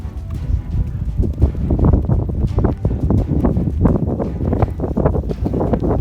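Wind buffets the microphone of a runner during a marathon, a steady low roar with gusty surges that never lets up through the whole stretch.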